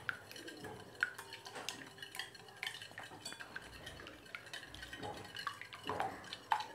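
Eggs seasoned with black pepper powder and salt are whisked in a bowl, giving quick, irregular clinks and wet stirring taps of a utensil against the dish, close and fairly soft.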